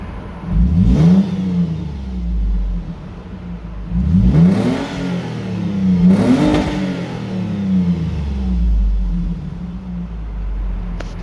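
A 2016 Toyota 4Runner, dyno tuned, is revved three times in quick succession. Each rev climbs sharply and falls back to a deep idle rumble, heard close up with no talking.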